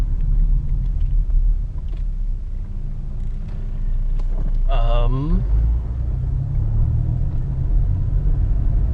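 A car with over 205,000 miles drives along a road, a steady low rumble of engine and tyre noise running throughout, with a brief burst of talk in the middle.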